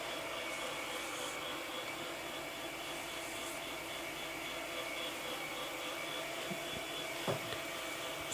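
A Shark Steam Pickup steam cleaner runs on carpet over dried ketchup, giving a steady, loud, close hissing whoosh that holds without a break, with a couple of faint knocks near the end.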